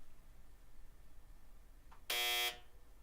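A single harsh electronic quiz buzzer sounds at a Black Desert seventh-anniversary game show event, one loud, steady tone lasting about half a second above a quiet room.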